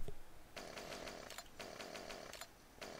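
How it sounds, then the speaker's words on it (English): Chainsaw in Farming Simulator 2015 on the Westbridge Hills Remix map, a steady buzzing drone in repeated bursts that cut out briefly between them, loud and up close with no talk. "which is probably going to be my chainsaw sound"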